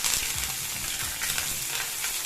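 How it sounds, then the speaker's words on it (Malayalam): Curry leaves and dried red chilies sizzle with fenugreek seeds in hot oil for mango pickle, a steady close crackle with soft stirring scrapes throughout and no voices. "ഉലുവയുടെ നിറം മാറുമ്പോൾ കറിവേപ്പിലയും വറ്റൽമുളകും കൂടി ഇട്ട് കൊടുക്കാം."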